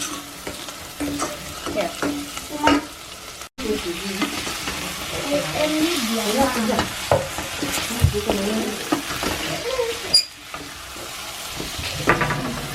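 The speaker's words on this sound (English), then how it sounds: "last thing is now mixing in the arrowroots" Arrowroot being stirred into a mixture with coriander and paprika in a frying pan, giving a steady scraping stir over a soft sizzle, with brief pauses and one short spoken word.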